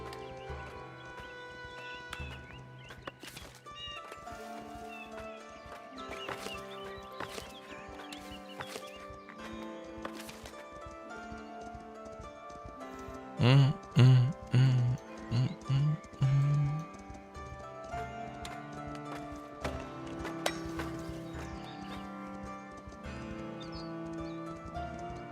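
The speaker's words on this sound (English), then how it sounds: "horse is coming in" Video game Foundation, where a horse arrives at a medieval village: hooves clip-clop with a neigh, under game music and notification sounds. A brief loud burst comes mid-way. No one speaks.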